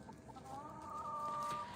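Chickens on a farm clucking and giving a drawn-out, warbling call, fairly faint and close, over a low background hum with no talking.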